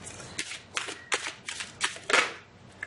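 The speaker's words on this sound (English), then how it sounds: "No, I'm going to keep shuffling." Tarot cards being shuffled by hand in a series of quick, crisp riffling bursts, about six distinct shuffles in a row, close and fairly quiet.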